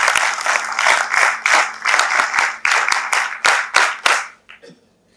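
Audience at a talk on artificial intelligence bursts into loud, sustained applause, dense clapping rolling steadily for about four seconds before tapering off into a few scattered claps.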